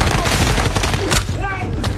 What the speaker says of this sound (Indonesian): mereka pun saling tembak dan saling bunuh di tempat tersebut sampai selesai.